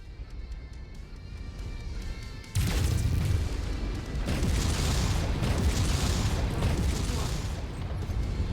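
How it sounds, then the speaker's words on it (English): A mech blows up in a video game, a sudden loud boom that rolls into a long, sustained roar of rumbling debris and fire filling the rest of the scene. "it's about to go all explodey"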